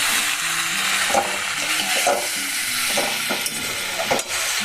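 Vegetable chorchori with two spoons of sugar is stirred in a hot pan, a steady sizzle under repeated scraping strokes of a spoon against the pan, close and continuous.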